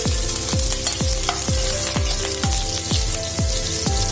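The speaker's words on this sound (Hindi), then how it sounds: "लहसुन क्रश किया हुआ, एक हरी मिर्च, हल्का सा ब्राउन रखेंगे" Crushed ginger-garlic and a green chili fry in oil, a loud bubbling sizzle with a regular rhythmic tapping or stirring beat about twice a second, steady and close, no speech.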